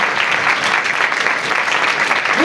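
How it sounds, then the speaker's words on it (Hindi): Loud, steady applause from an audience at a religious gathering fills the whole stretch, dense clapping with no voices over it. "हाँ, जोरदार तालियां खुदा की।"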